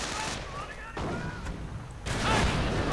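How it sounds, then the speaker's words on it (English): Rapid bursts of FD-42 automatic rifle fire from fallschirmjaeger paratroopers in a World War II strategy game battle, crackling in dense layered volleys with scattered distant booms, continuous and moderately loud throughout. "more fallschirmjaegers, more FD-42 fire"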